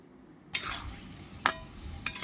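Boiled mung dal with banana flower is stirred in a pan, a soft bubbling sizzle broken by three sharp clinks of a utensil against the metal.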